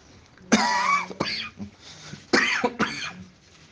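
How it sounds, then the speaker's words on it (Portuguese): A few dry, raspy human coughs in two clusters, close and fairly loud, with brief pauses between them. "Eu tô com essa tossinha chata. É só assim de friagem"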